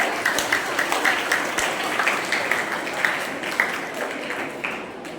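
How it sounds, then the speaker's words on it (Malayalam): An audience at a health-awareness gathering claps for the children, a dense, sustained patter of many hands filling the whole stretch at an even level with no voices over it. "അപ്പൊ മിടുക്കരായ കുട്ടികൾക്ക് നമ്മളൊരു കയ്യടി കൊടുക്കണം, അല്ലേ?"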